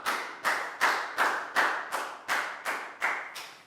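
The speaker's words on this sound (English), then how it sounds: "Okay, big round of applause for Nadia, guys." Classroom round of applause, heard as a run of about ten distinct, evenly spaced loud claps, each with a quick decaying tail.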